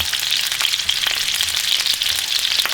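Meatballs frying in a pan sizzle loudly and steadily, a dense close crackle with small pops throughout and no voices.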